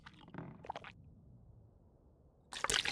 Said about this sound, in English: I've got this deer steak on me, so we're gonna eat that first.